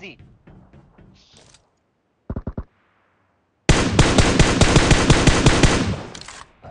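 Automatic gunfire in the mobile battle royale game PUBG Mobile: a short early burst, a few isolated shots, then a long loud rapid volley, with players talking over it.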